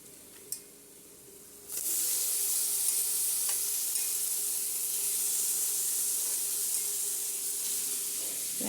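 Soya chunks dropped into a hot pan burst into a loud, sustained sizzle after a brief quiet moment, a close, steady hiss of frying that holds to the end with no voice.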